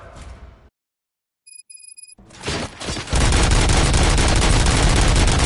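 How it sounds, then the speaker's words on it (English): Bursts of gunfire in a Robocop video game: a short chattering volley, a hush broken by electronic beeps, then loud, dense, continuous rapid shots that fill the rest of the clip. "Gunshots? What's going on?"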